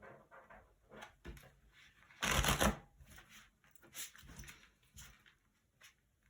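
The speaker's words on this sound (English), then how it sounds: "doing a good shuffle on the cards." Tarot cards being shuffled by hand, soft papery riffles and taps in irregular bursts with one louder flurry of cards in the middle, close and quiet.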